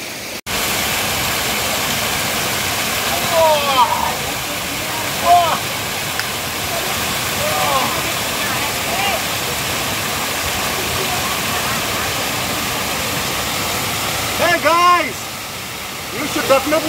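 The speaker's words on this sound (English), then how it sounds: "you should definitely come to Sattal waterfall." Sattal mountain waterfall pours in a steady, loud, broadband rush close by, with brief speech and splashy bursts rising over the constant roar of falling water.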